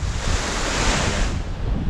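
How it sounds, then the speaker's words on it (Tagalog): Surf washes onto the beach at a resort in Mariveles, Bataan, a continuous loud roar of breaking waves mixed with wind buffeting the microphone. "Andito na tayo sa baba. Ito na yung pinaka beach."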